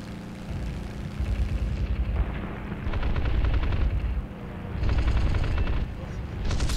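Cannon fire from an F8F Bearcat fighter in a historical air-combat video game, coming as bursts of loud, rapid heavy gunfire separated by short pauses, layered over steady engine drone.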